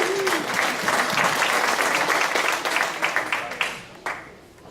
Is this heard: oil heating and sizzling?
no